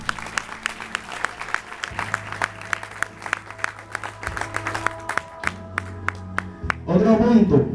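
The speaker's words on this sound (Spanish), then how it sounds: "Demos un fuerte aplauso a Dios." A church congregation at an evangelistic campaign claps along steadily, sharp rhythmic claps over sustained music, swelling into a denser burst of applause near the end.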